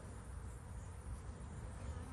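Honeybees swarm around a hive in a continuous soft buzzing drone, a faint, even hum of many wings with no voices.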